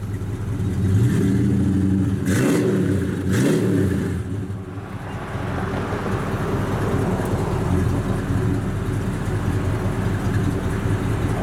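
A 1964 Buick Skylark engine rumbles steadily with a deep, throaty note through dual Flowmaster exhausts with twin tips, revving briefly early on before settling into a continuous idle, close and loud.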